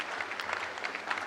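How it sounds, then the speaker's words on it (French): A church congregation claps in dense, continuous applause, a brief steady burst of many hands at moderate distance with no talk over it. "Applaudissons merveilleusement pour notre Dieu qui fait des miracles."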